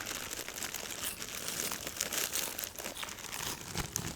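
Someone rips open a wrapper in short, crinkly tearing bursts, close up and fairly quiet, with no talking.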